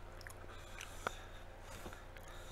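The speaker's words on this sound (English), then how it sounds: "So crunchy. Wow. Sweet potato." A single sharp crunchy bite into deep-fried sweet potato near the middle, followed by faint chewing in a quiet setting.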